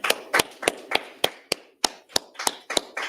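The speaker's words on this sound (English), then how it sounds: "Let's go ahead and clap it up, man." About a dozen sharp, evenly spaced claps ring out at a steady rhythm in a room, loud and close, with no talking between them.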